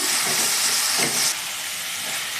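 Potatoes, peas and carrots sizzling in a hot pan for carrot-pea rice: a steady, loud hiss that drops slightly partway through and then continues evenly.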